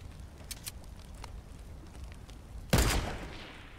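Burst of gunfire in Fortnite Battle Royale, a loud sudden volley after quieter scattered game sounds and faint distant pops.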